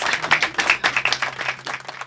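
A live audience applauds in honour of a singer, steady dense clapping for about two seconds with a faint voice underneath.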